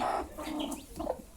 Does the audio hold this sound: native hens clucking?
yes